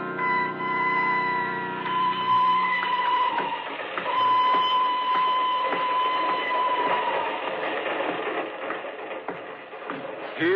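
A train sound effect from an old radio drama: steady rolling rumble and rattling wagons with a sustained whistle-like tone, loud and continuous throughout with no talk.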